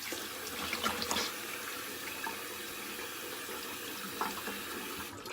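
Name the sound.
rinsing soap off the face with tap water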